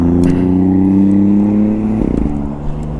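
A car passes by on the 520 bridge, heard from aboard a small electric vehicle, a steady loud engine and tire hum swelling and fading near the end against constant road and wind noise.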